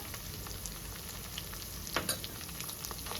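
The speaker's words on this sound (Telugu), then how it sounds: "ఈ పచ్చివాసన పోయినంత పోయేంత వరకు మొత్తం మంచిగా ఫ్రై చేసుకోవాలండి" A fresh coconut and coriander paste fries into a mutton kheema curry with broad beans, making a quiet steady sizzle close by, with a couple of brief stirring scrapes near the middle and no talking.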